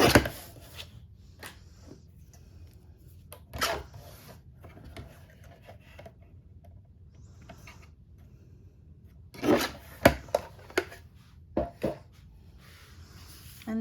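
Black card paper being trimmed for a frame on a craft card, a series of short crisp cutting and scraping strokes in bursts with quiet gaps between them, close and alone.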